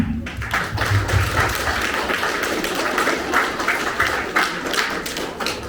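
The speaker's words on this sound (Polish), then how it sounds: "Brawa, kochani, brawa." An audience claps at a school pupils' induction ceremony, a steady dense roll of applause filling the room, loud and continuous with some thuds underneath.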